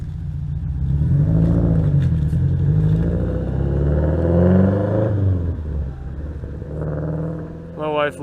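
A Subaru 2.5RS with a full STI engine swap revs nearby, its engine note swelling up and dropping back across several seconds while someone talks over it.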